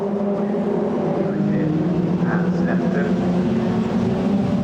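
Formula 4 race cars at Snetterton in the 2015 BRDC Formula 4 championship roar past on circuit, a loud sustained engine howl with shifting tones as the cars pass and fade.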